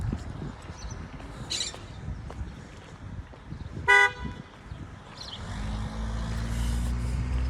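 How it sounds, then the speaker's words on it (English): A single car horn honks loudly in a short burst partway through an outdoor walk, set against a rumbling street background, with a vehicle engine rising toward the end. "Who the hell is honking?"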